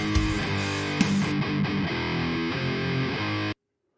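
Distorted metal guitar tracks soloed in Logic Pro on iOS, thick saturated chords with a low, chugging rhythm that play for about three and a half seconds, then stop dead into silence.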